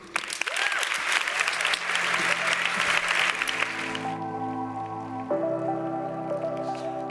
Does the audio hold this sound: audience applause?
yes